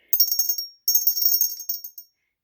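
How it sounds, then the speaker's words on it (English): An heirloom Christmas bell rings in two bright, high, shimmering bursts of rapid jingling, close and clear against silence, with a few lighter shakes at the end. "a Christmas bell, and it belonged to my Grandma Amy"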